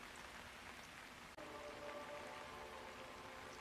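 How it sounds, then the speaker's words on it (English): Steady rain falls in the video game Hitman 3 on the streets of Chongqing, a dense, even hiss of drops that continues throughout with a brief cut near the start. "It feels like it's never going to stop raining."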